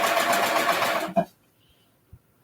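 Close and loud, a sewing machine runs a seam in one steady whirring burst, then stops abruptly with a clunk, followed by near silence and a faint click.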